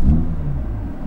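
BMW M2 engine firing up: a loud, deep rumble that swells at the start, then settles into a steady, close idle for a brief moment, with no voices.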